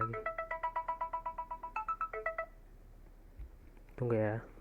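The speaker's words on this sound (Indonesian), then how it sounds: "Aduh, ada telepon lagi." Phone ringtone chiming a quick repeated melodic pattern, close and clear, then cutting off, followed by a brief spoken word near the end.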